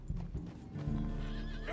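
Horse hooves clip-clop in Red Dead Redemption 2, several close, heavy steps followed by a rising, wavering whinny near the end, loud against a low rumbling backdrop.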